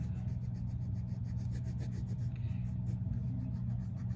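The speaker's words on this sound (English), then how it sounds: "Go ahead and erase them" A pencil eraser rubs back and forth over drawn pencil lines on paper, a steady, close scrubbing that runs continuously without pause and with no voices.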